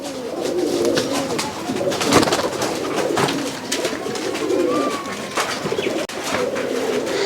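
A group of Rajshahi Pilong pigeons coos steadily in a loft, with overlapping throaty rolling calls, soft wing rustles and brief chirps, close and fairly loud throughout.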